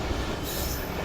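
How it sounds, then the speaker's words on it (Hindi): Jaffer Express behind a Chinese locomotive pulls out of Wazirabad station, with a steady rolling rumble of the carriages and a continuous high metallic wheel squeal over it. "ट्रेन हमारी दोबारा से निकल गई है वज़ीराबाद से"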